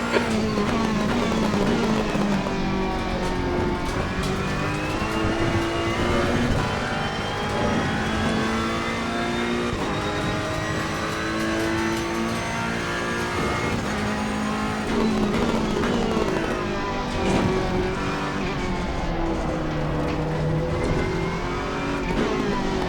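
A Ferrari 488 race car in the video game Assetto Corsa Competizione at Paul Ricard, its engine loud and continuous, rising and falling through gear changes and revs, with brief tire squeal.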